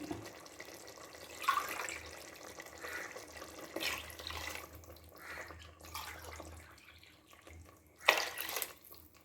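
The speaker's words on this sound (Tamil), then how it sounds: "இப்போ நான் 5 டம்ளர் தண்ணி ஊற்றிக்கிறேன்" Five tumblers of water pour and splash into a pot for chicken biryani in uneven bursts, with a louder gush near the end and no voices.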